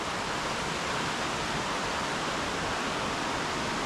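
Broad, steady rushing of a river spread into many shallow channels like a delta in Ferguson Canyon, a close, continuous wash of water with no voices.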